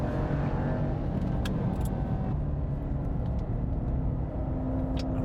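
A Jaguar XE SV Project 8 lapping the Portimao circuit on Michelin Cup 2 tyres, its engine droning loud and constant from inside the cabin with a deep steady rumble and no speech.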